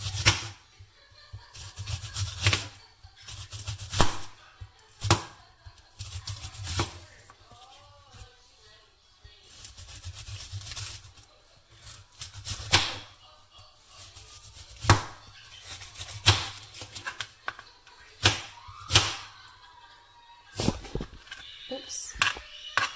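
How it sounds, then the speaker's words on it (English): Knife slicing onion on a cutting board while a pan heats for chiles rellenos, heard as a run of sharp, close chopping strokes at an uneven pace, with a person talking between bursts. "onion, or slicing some onion"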